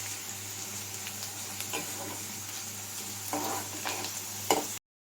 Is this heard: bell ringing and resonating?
no